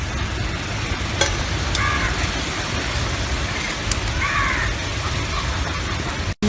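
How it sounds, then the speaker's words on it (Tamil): Whole garam masala spices, including cinnamon, cloves, bay leaf and star anise, splutter in hot oil for a Chettinad chicken gravy, giving a steady close sizzle with a few faint clinks. "இப்போ நம்ம மசாலா கரம் மசாலா நல்லா பொரிஞ்சு வருது"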